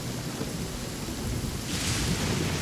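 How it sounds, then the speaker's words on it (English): Rain pours steadily in Genshin Impact while thunder rumbles low and grows louder toward the end, with a hissing downpour throughout. "Thunder and lightning can be quite frightening, but don't worry."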